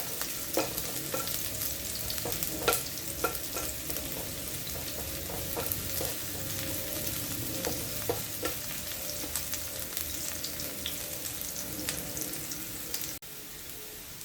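Onions sizzle steadily in a hot pan, with scraping stirs and occasional utensil clicks against the metal over a constant bed of frying. The sound is close and continuous, with no voices.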